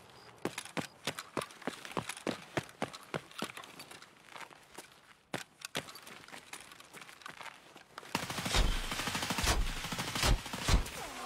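Guns fire in the video game Escape from Tarkov: rapid single shots and short bursts, fairly faint, ending in a denser, louder stretch of fire.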